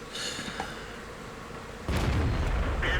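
An M46 tank fires its main gun in a video game, a single heavy boom that bursts in partway through and stays loud and full to the end, with a rumbling bed before it.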